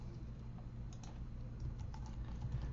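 Light, fast tapping on a computer keyboard while typing code, with quick soft clicks in an uneven run, faint and close, with no talking.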